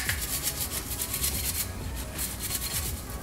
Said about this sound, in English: Just push it in and just start scrubbing it.